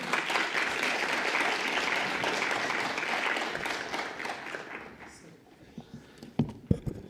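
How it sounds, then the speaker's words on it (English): A conference audience at a Geneva health forum gives a warm round of applause welcoming the session chair, steady dense clapping that fades out after about five seconds, leaving a few scattered claps and small sounds. "Please welcome our Chair, Dr. Smith, with a warm round of applause."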